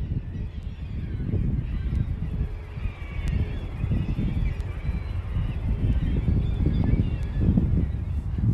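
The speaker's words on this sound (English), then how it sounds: "look how many birds that is." A large flock of birds, heard as geese, honks and calls outdoors in a city, forming a dense, continuous chorus of overlapping honks at moderate distance.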